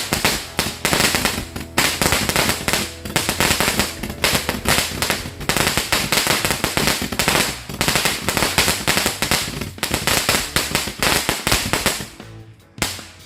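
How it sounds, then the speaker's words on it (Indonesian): Dense volleys of firecrackers bursting in rapid, continuous succession, loud crackling pops overlapping for many seconds during a night-time Ramadan display, with a short tail near the end. "Ini mercon kita masih banyak banget"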